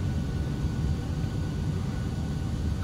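An F-22 Raptor jet in a flight simulator game descends to land with full flaps, a steady, dense low engine rumble and airflow roar that holds constant and fairly loud throughout.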